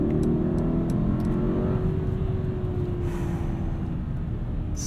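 A heavy 2021 Mercedes-Maybach GLS 600 with 550 horsepower pulls forward at night, its low engine drone and rising whir steady beneath road and tyre noise, heard from inside the cabin.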